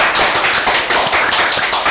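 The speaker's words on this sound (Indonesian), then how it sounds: "Tepuk tangan untuk Pengadilan Negeri Wonogiri" Audience applause at an event honouring the Wonogiri district court: a brief, dense burst of clapping, close and fairly loud.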